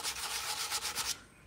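Sandpaper rubbed briskly back and forth along a wooden self-defense stick, about six rhythmic close strokes, then stopping abruptly into quiet.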